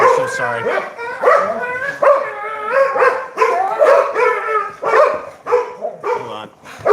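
Several dogs bark and yip repeatedly in a home, loud and close, overlapping with a person speaking briefly.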